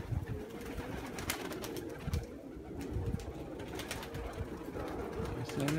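Pigeons coo steadily in low, soft, throaty rolls, several birds close by with overlapping calls and faint rustling underneath, no talk.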